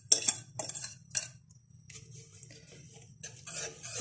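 Egg halwa mixture stirred in a kadai with a whisk or spoon, giving bursts of metallic scraping and clinking against the pan with short pauses between strokes, close and moderately loud.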